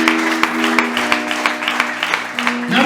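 A church congregation in Rubavu claps in a steady rhythm, with evenly spaced sharp claps over a sustained keyboard tone and a faint murmur of voices.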